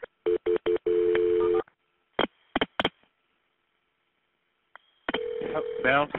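Telephone dialing tones during a 911 emergency call transfer to EMS: a rapid series of short touch-tone beeps, a few more scattered tones after a pause, then a longer tone with a voice talking over the line.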